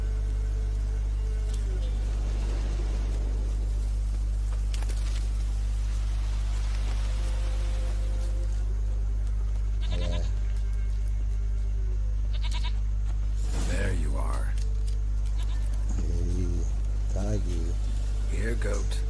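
A goat bleats a few times in The Witcher 3, short wavering cries over a constant hum of game background noise, with someone talking briefly nearby.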